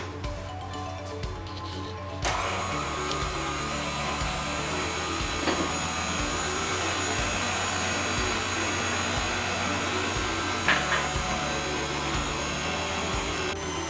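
A stand mixer machine runs continuously while stirring soft sfeeha dough, a steady loud whirring drone with slight fluctuations, starting abruptly after a brief quieter moment and carrying on alone without talk.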